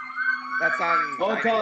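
A police siren sounds outside, a steady wailing tone running under two people talking indoors, fairly loud and continuous throughout.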